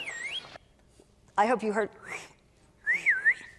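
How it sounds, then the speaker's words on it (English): Short rising-and-falling whistle tones used as a signal in a dolphin communication experiment, sounded in separate bursts between stretches of talk. "If they pushed the triangle, they would hear a whistle."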